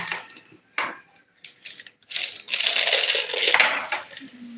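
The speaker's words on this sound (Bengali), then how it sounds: "এবার দিয়ে দিচ্ছি লবণ" Salt tipped onto a puffed rice (muri) mix being prepared with chaat masala and mustard oil, giving a few dry pattering, scraping bursts that swell into a louder sustained rustle near the end.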